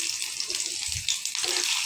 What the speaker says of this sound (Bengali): ভেজে বেরেস্তা করে নিচ্ছি